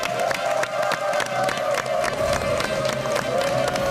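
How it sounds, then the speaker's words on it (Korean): A television studio audience greeting three guest doctors with sustained applause and cheering, brisk rhythmic clapping mixed with crowd shouts, loud and close throughout. "박수로 환영해 주십시오."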